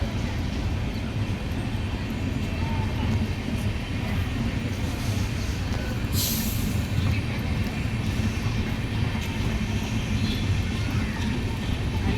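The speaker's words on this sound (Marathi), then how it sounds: "कोचीवेल्ली गाडी आली" The Kochuveli Express rumbles steadily into a station, a low continuous roar with faint voices in the background.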